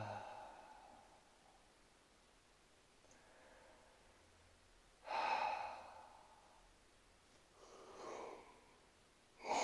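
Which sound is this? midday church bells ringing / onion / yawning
yawning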